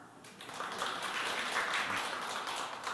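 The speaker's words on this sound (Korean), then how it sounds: "큰 박수 부탁드립니다" Audience applause at a Korean social venture forum as a company CEO is introduced, a steady broadband wash of many hands clapping that holds at moderate level for about three seconds.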